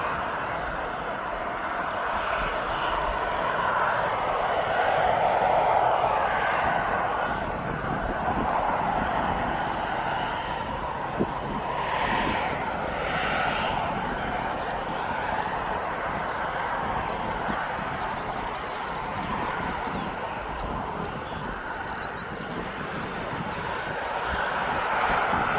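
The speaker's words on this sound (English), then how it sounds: "The TUI is now on his go-around." A TUI airliner going around at East Midlands Airport gives a steady, moderately distant jet drone that holds level throughout with slight swells and no talk.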